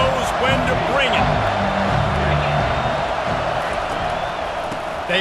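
Stadium crowd in the NCAA 25 college football video game, Michigan against Oklahoma State, roaring steadily and loudly throughout, with a commentator talking over it.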